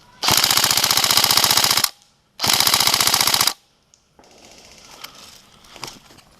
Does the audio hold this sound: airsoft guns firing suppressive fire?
yes